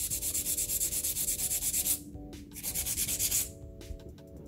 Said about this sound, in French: Je vais mettre ma lime parallèlement droite à mon ongle et je vais limer.